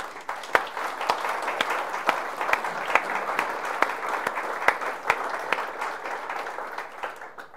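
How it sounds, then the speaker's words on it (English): Audience applause at a book launch, even rhythmic clapping from a room of people with a few sharp, close claps standing out, steady and fairly loud from start to finish. "join me in giving these guys a round of applause."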